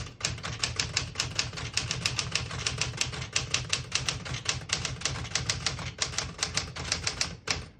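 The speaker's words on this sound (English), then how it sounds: "I'll type a sentence in red on the next line and switch from black to red." Rapid, steady typing on a 1966 Smith-Corona Galaxie II portable typewriter, with crisp key strikes in a fast, slightly uneven rhythm, close and clear, ending with a brief louder mechanical clack.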